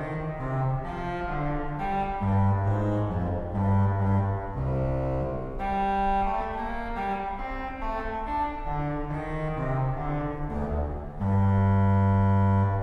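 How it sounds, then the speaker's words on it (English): Trompeta reed stop on the Klais/Fisk pipe organ at Saint Peter's Church in New York, rebuilt and retongued, playing a bright brassy melody of sustained chords and moving notes, full and close. "A lot of work went into this trompeta, and it sounds a lot better now."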